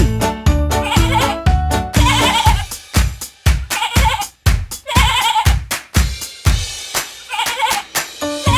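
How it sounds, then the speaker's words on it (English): Sheep bleat repeatedly in rhythmic, wavering calls that rise and fall, loud and close, several bleats in succession with no talk. "Sheep."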